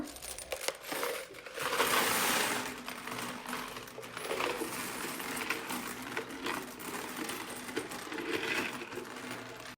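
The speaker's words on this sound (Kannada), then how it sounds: "ಕೊನೆಯದಾಗಿ ಈ ಡಬ್ಬಿಯ ಕಾಯಿನ್ಸ್ ಕೂಡ ಹಾಕೋಣ" Coins, including ten-rupee pieces, poured out of a box in a steady, dense metallic clatter that runs for the whole stretch, loud and close with no talk.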